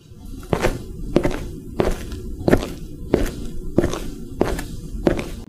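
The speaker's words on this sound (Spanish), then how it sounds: "cuando se escuchan pasos" Heavy footsteps thud at a slow, even pace, about nine steps in a row, close by with a low rumbling background.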